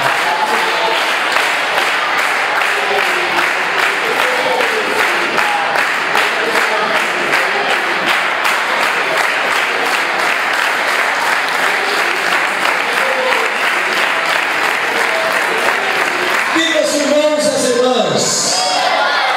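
A church congregation applauds steadily and loudly through a Santa Ceia service, dense continuous clapping filling the space before it thins out near the end.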